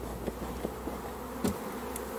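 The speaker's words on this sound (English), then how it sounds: "we know that there was this huge quantity of bees in the box" A large swarm of honeybees inside a box, a faint low hum of buzzing beneath a steady background, with a few brief louder buzzes as single bees pass close.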